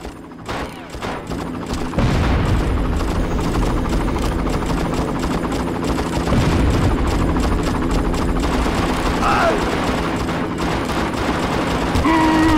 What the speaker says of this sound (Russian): Столько выстрелов, все мимо, неужели?